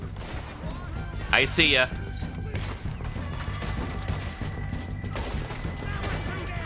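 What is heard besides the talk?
gunshots in Red Dead Redemption 2 video game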